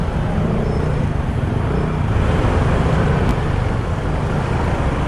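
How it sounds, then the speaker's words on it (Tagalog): Dense traffic on a busy city road in BGC, a steady broadband roar of car engines and tyres close by, continuous with no pauses and no voices. "Dami pa rin sasakyan."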